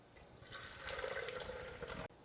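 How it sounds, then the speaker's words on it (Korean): Water from boiled soybeans poured from a cup onto soaked glutinous brown rice, a close, steady splashing pour lasting about two seconds before stopping abruptly. "콩 삶았던 물 한 컵 부으셔서"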